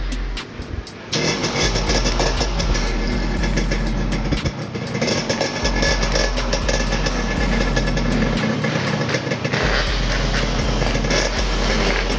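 A Yamaha RX King motorcycle engine running steadily and loudly up close, a continuous buzzing two-stroke drone with a brief dip near the start and a recurring high-pitched ticking over it.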